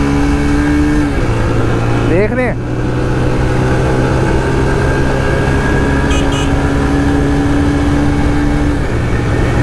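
Motorcycle engine with a misfiring fault idling steadily up close, breaking into one quick rising rev partway through before settling back to a constant idle, with a brief spoken phrase.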